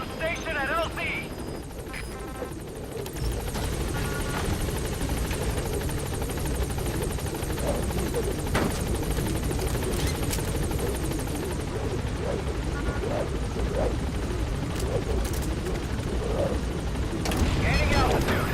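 The Pequod helicopter from Metal Gear Solid V hovers at the landing zone, a steady loud rotor drone with a constant whine that holds throughout and swells slightly near the end, with game radio chatter and beeps mixed in.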